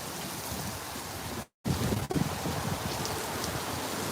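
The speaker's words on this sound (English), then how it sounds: "here comes the wind. Here comes the rain" Wind and rain roar steadily through a storm, a broad rushing wash that briefly cuts out for a moment, then resumes with gusty buffeting close to the microphone.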